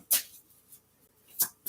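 Tarot cards shuffled during a live reading, heard as a few short papery riffle bursts with quiet pauses between them, fairly close and soft.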